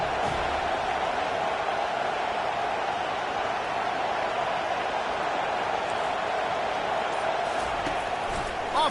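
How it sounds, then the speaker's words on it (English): Stadium crowd at a college football game between Notre Dame and an NCAA opponent, a dense, sustained roar of thousands of voices filling the air at a steady, loud level. "This crowd bringing an ear-splitting welcome to their visitors."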